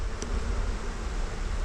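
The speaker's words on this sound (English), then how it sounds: "The spider came out to get the bee that got stuck in its web." A bee trapped in a spider web gives off a steady, low, faint buzz that hums continuously outdoors, with no voices over it.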